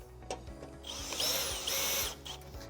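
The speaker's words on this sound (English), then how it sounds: "It does help if you use a drill." A power drill driving a screw during treadmill assembly whirs in two short bursts, whining up and cutting off, with a few knocks and handling clatter before and after.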